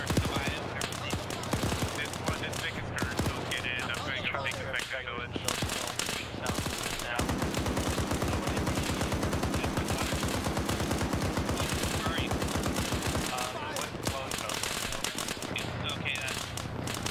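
Gunfire in a military combat video game set in the Sierra Leone civil war, dense bursts of automatic fire and scattered shots running almost without pause, loud and layered, with voices talking over parts of it.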